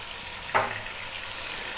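Onion and celery with salt and pepper sauté in a pot for lamb potato stew, a constant low sizzle with one brief clunk of the spoon.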